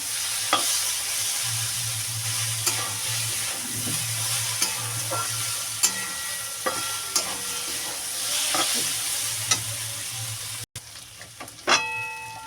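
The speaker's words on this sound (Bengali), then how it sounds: "ভাজা ভাজা হয়ে গেছে সোয়াবিনটা কষানো হয়ে গেছে তেল ছেড়ে দিয়েছে" Soybean chunks frying in oil in a pan, a close, continuous sizzle with repeated scraping and clinks of a spatula stirring, plus a low steady hum in the background.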